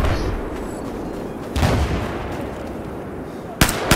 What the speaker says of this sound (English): Shot him with a pistol.